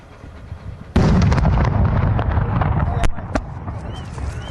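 A loud explosion at a deadly blast site rips in suddenly and keeps rumbling heavily, with further sharp cracks and bangs breaking through close by.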